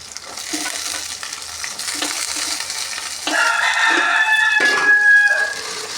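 Cut drumstick pieces dropped into a hot tempering for a drumstick tomato curry, a broad sizzle that swells louder partway through, with a bright whistling hiss and some clatter over continuous frying noise.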